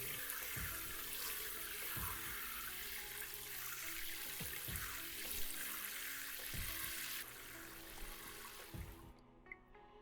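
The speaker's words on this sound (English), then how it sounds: "Rinse off the salt water to avoid moisture loss." Tap water running steadily into a sink while salted ume plums are rinsed, a close, constant hiss with faint handling knocks underneath. It stops abruptly near the end.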